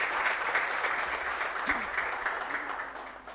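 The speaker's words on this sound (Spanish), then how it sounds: "Y un fuerte aplauso para todos ustedes." Congregation applauding in a parish church at the close of a Christmas Day Mass, a sustained, even wash of clapping with a faint voice briefly rising through it.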